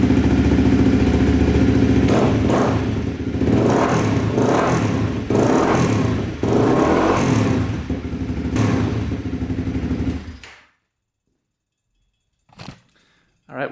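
A Honda CRF250L dirt bike engine runs loud and close for about ten seconds, its steady idle punctuated by rhythmic blips and clattering thumps, then cuts to silence before a few brief noises.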